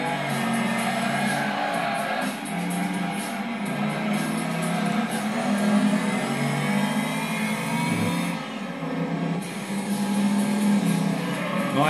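A racing car engine in the Gran Turismo 2 video game drones loudly and continuously, its pitch rising and falling through gear changes, with a brief dip mid-run and crowd-like game noise underneath.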